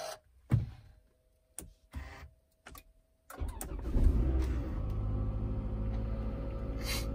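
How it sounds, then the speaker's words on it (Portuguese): A 2012 Toyota Estima starts with a push button: a few sharp clicks and thumps, then the engine cranks, catches and settles into a steady, close idle rumble. "O carro liga no botão."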